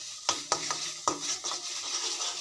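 Masala for mutton kosha being stirred and fried in a pan, with several sharp scraping knocks of a spoon against the pan over a soft, steady sizzle.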